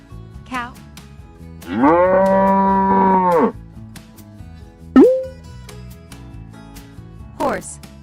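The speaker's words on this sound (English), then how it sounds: "Cow." A cow moos loudly and close, one long drawn-out low call followed by shorter calls, with brief voice sounds in between.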